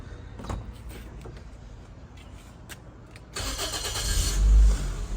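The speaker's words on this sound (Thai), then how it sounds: "เดี๋ยวฟังเสียงเครื่องนะครับเดี๋ยวสตาร์ทเครื่องให้ฟัง" A 2012 Toyota Altis 1.6E with CNG engine cranks and catches midway, settling into a steady idle rumble after a stretch of quieter background noise.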